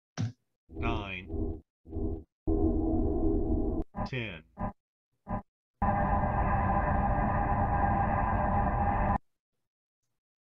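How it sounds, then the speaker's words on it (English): A game's audio turn indicator sounds a series of short tonal beeps that set a rhythm, followed by a long sustained whooming tone that cuts off cleanly; a voice briefly calls out numbers at the start. "the reason why there are 4 beeps is that they establish a rhythm, and the turn itself will actually start on the 4th beep"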